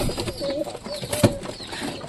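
Domestic pigeons leave their loft and let out a few soft, low coos over a quiet background with faint rustling.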